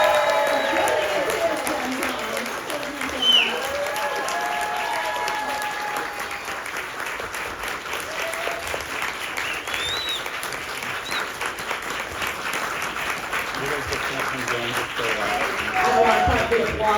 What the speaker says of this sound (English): can we give them both, please, a big round of applause?